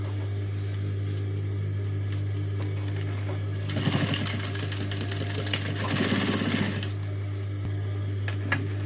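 An electric sewing machine stitches across a leather handbag, a burst of rapid mechanical stitching around the middle, then a shorter second run, over a steady low motor hum.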